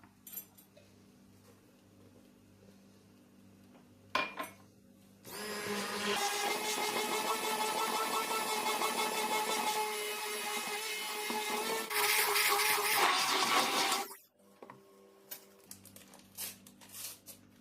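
An electric hand mixer beats vanilla cupcake batter until the sugar dissolves, a loud steady whir with faint rattling running for about eight seconds between quieter kitchen sounds.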